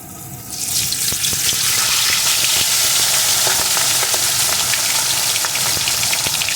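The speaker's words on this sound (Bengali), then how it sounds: "এখন এর ভিতরে আমি লবণ হলুদ মাখানো মাছগুলোকে একে একে দিয়ে একটু ভেজে নেবো" Pomfret fish rubbed with salt and turmeric drops into hot mustard oil, setting off a loud, close, crackling sizzle that swells within the first second and then holds steady.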